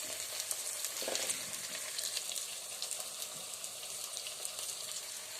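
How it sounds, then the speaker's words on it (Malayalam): Sliced onions frying with a pinch of salt in a pan for a soya chunks fry give off a steady, soft sizzle with a few light crackles, fairly quiet and with no voices. "അല്പം ഉപ്പ് ചേർത്ത് കൊടുക്കുകയാണെങ്കിൽ സവാള പെട്ടെന്നൊന്ന് ഫ്രൈ ആയി കിട്ടും"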